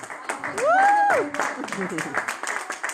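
Scattered, fairly quiet applause from an audience at a live event, with a rising whistle-like tone early on and a brief voice calling out.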